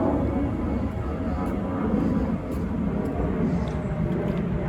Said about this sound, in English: you can hear the airplanes taking off and landing from across the river.